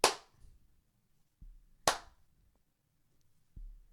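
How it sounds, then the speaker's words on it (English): Hands give a slow clap: two loud, sharp claps about two seconds apart, separated by softer low thumps. Each clap rings briefly in a quiet room. "The slow clap."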